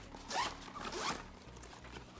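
Zipper on a fabric packing cube pulled open in two quick, close, soft rasping strokes, quiet and with no talking.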